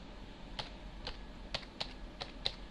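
Typing on a computer keyboard, with a handful of separate, crisp key clicks spaced irregularly over a few seconds, faint and close, with no talking.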